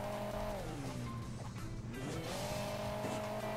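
Sports car engine in Hill Climb Racing 2 revving with rising and falling pitch, a steady close drone with tire squeal, running continuously and alone without talk.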